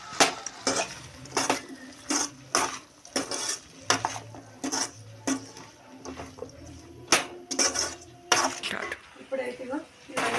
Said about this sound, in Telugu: ఆ లోపల దీన్ని అయితే ఒకసారి కలుపుతున్నా.